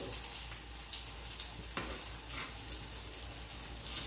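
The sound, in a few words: mango jamuns frying in ghee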